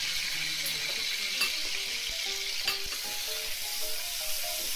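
Garlic ginger paste sizzles steadily in a hot pan while a Chicken Bhuna is being cooked, a continuous bright hiss with a few soft clinks of stirring and no talk.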